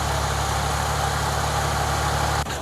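A car engine idles during a radiator flush in a 1980s garage, a steady low hum with a faint mechanical buzz, running alone and cutting off near the end.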